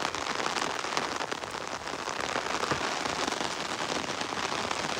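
Steady rain falls continuously, a dense, even hiss of drops striking surfaces outdoors, loud and close throughout with no voices.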